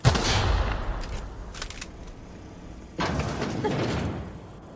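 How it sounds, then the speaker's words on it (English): Booming explosions in the video game The Outer Worlds, a heavy blast at the start followed by rumbling, then another sustained burst of noise later. "I probably should get away from the explosions."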